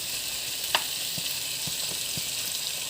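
Biryani paste frying hard in a pan for chicken biryani, a steady close sizzle broken by a few soft knocks and scrapes as it is stirred, with no talking.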